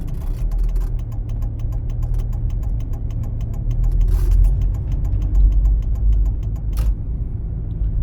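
A car steadily drives while exiting a roundabout during a Ukrainian practical driving exam route, its engine and road noise holding a continuous low rumble that swells slightly midway.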